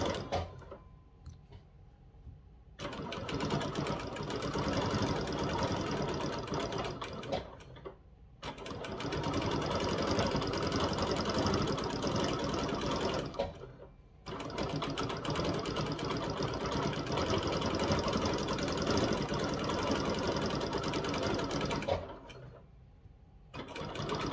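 Sewing machine running with heavier serger thread while stitching a quilt design, steady near whirring in three long bursts with short pauses between, no talk.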